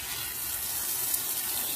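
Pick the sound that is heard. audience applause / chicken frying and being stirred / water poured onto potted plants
water poured onto potted plants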